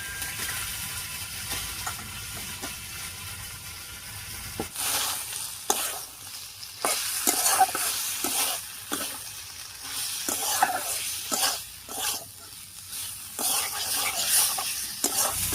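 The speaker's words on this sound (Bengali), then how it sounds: "এবার এর মধ্যে দিয়ে দিচ্ছি ভেজে রাখা পটলটা, আর পটলটা দিয়েও কিন্তু আরো একটু কষিয়ে নেব।" Fried pointed gourd (potol) tossed with potatoes and spices in a pan, first a soft steady sizzle, then louder bursts of stirring and scraping strokes over continuous frying hiss, close and alone.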